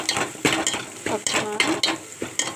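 Chili powder being stirred into an elephant foot yam curry in a pot, with repeated scraping clinks of a spoon against the vessel in an uneven rhythm, close and fairly loud, while someone talks over it.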